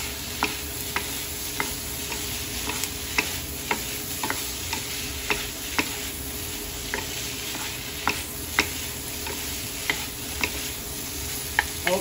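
Chicken liver sizzles steadily in a pan for pancit canton, a continuous fry hiss with regular sharp ticks and pops from spatters or stirring, close and moderately loud, with no talk.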